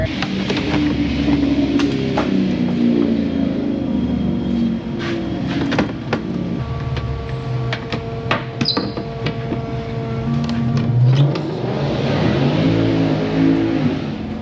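A car engine revs and roars steadily, rising in pitch as it accelerates, with a brief high whine partway through and no talk.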